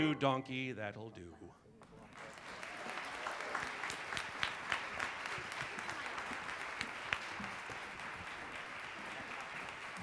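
After a brief sung line, an opera picnic audience breaks into sustained applause for Shrek performers, with sharp claps rising out of a steady wash of crowd clapping.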